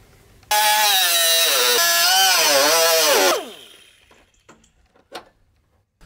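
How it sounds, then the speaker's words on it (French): Angle grinder disc slicing into a rusty body panel on a Suzuki Cappuccino, a loud, steady high-pitched screech lasting about three seconds with a falling pitch, then it spins down, followed by faint clanks and small knocks. "je vais devoir progressivement découper un peu plus jusqu'à ce que je trouve plus de rouille ou de trou derrière"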